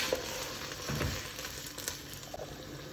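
Steady sizzling of peppers frying in a hot pan, with a few faint crackles and stirring noises, no talking.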